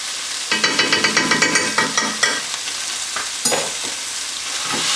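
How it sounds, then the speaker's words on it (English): Balti curry paste hits a hot pan of peppers with a loud sizzle, broken early on by a quick run of rhythmic scraping stir strokes, then a steady frying hiss with occasional clatters. "Our Balti curry paste goes in now."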